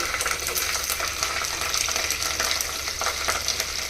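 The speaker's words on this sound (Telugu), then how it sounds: "ఈ మెంతులు కరేపాకు 2 ఫ్రై అయిపోయినాయి" Fenugreek seeds and curry leaves fry in a clay pot over low heat, giving a continuous moderate crackle and sizzle with small stirring scrapes, no talking.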